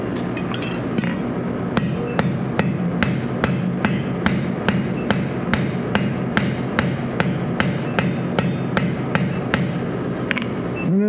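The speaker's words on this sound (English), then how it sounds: "sometimes it's just fun to hit things with a big power hammer" A big power hammer striking hot metal in a forge, loud sharp blows repeating at a steady even rhythm for about ten seconds over a constant mechanical hum.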